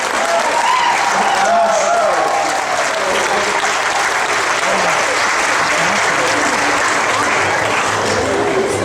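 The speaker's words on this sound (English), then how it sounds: "round of applause" A workshop audience gives a loud, sustained round of applause, dense clapping close by, with voices and murmurs mixed in underneath.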